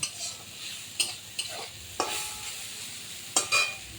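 A spatula scrapes and stirs a soft paste in a pan as water cooks off for bhotbhoti paste, with sharp intermittent scrapes over a faint background sizzle.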